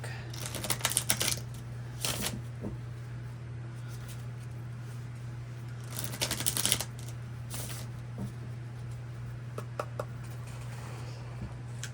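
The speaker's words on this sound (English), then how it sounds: "Okay, a couple more shuffles here." Tarot cards riffle-shuffled in several quick bursts, crisp and close, over a steady low hum.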